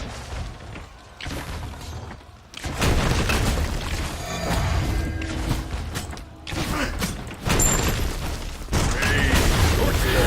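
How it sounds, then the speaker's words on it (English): An enemy tower is destroyed in the Smite video game, with a loud burst of booming crashes and creaking mechanical clatter in uneven waves, separated by short quieter gaps. "Destroyed a middle enemy tower."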